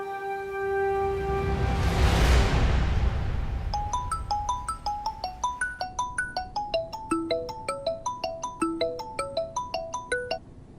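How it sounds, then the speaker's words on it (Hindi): A phone rings on an outgoing call, a sustained chiming swell followed by a rapid repeating melodic ringtone pattern, loud and close with no talk. "फोन नहीं लग रहा है बंसल साहब।"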